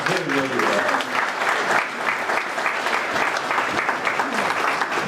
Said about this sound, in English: Would y'all please give them another round of applause?